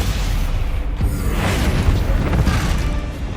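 A Bombarda explosion spell goes off in Hogwarts Legacy, a deep rumbling boom that swells and rolls on for several seconds, loud and dense with low-end roar.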